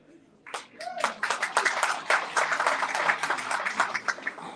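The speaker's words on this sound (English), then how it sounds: "Let's give a round of applause to those who didn't give" A crowd at a mosque breaks into applause, scattered claps building into a steady round that continues for several seconds, moderately loud.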